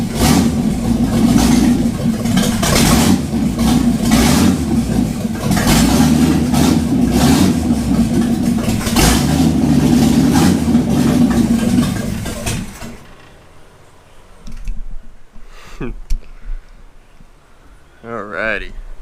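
A 1951 Chevy truck engine runs loud and close, a steady rumbling idle with rising revs for about twelve seconds, then cuts off, leaving quiet with a few faint knocks and handling noises.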